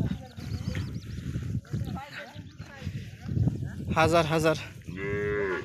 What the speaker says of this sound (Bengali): গরু বাছুর এখানে রয়েছে।